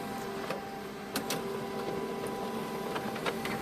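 An HP Color LaserJet Pro M254DW laser printer resumes a print job, giving a steady mechanical hum with a few soft clicks and brief feed clunks spread across it, close by and with no talking.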